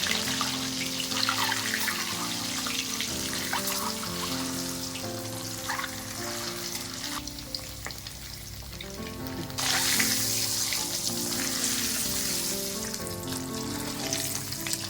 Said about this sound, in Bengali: তেল গরম হয়ে গেছে এবার ডিমগুলো দিয়ে ভেজে নেব একটু হলুদ আর একটু লবণ দিয়ে দেবো